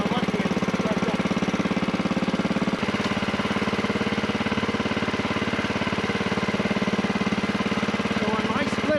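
A roughly 40-year-old log splitter engine runs just after a pull start. Its small engine putters in a fast, even, loud beat close by, with one brief knock partway through.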